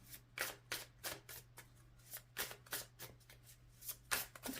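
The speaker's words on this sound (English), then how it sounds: "Just giving it a good shuffle here." Tarot cards being shuffled by hand, a quick run of soft, papery riffling bursts in an irregular rhythm, close and faint over a steady low hum.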